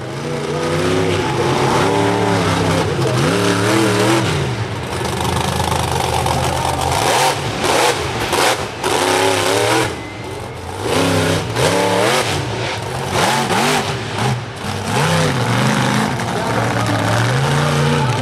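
Race cars revving hard for freestyling at a Batesville, Arkansas dirt track, a loud, continuous roar of engines rising and falling in pitch throughout, close and dense with no pauses.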